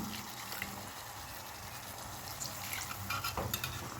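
A spoon stirs gram flour mixed with water into a batter in a bowl, making soft, quick wet scraping and light clinks, close up and quiet, with no talking.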